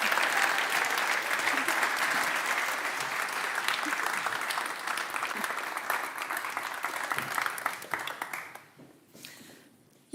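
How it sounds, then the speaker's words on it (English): Audience applause after a team's game presentation at a games graduation showcase, steady clapping from a sizeable crowd that carries on loudly for about eight seconds, then fades and stops abruptly. "This is your applause."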